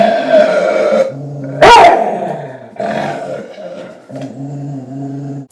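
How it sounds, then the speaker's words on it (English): A dog with serious resource guarding issues growls and barks indoors, giving a few loud close barks separated by low rumbling growls over about five seconds. "He's doing a lot of growling and stuff in the house"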